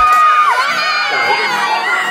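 A large crowd of students shouts and cheers enthusiastically for an actor at a school event, loud high-pitched voices rising and overlapping with drawn-out screams throughout.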